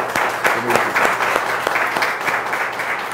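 An audience claps at a multiple sclerosis forum. The applause is a steady, fairly loud patter of many hands that lasts the whole stretch, with some voices mixed in.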